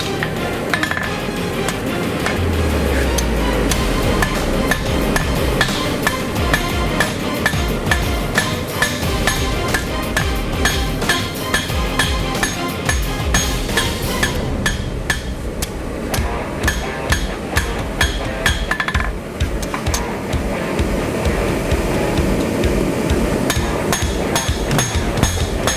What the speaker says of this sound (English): I like it for smoothing steel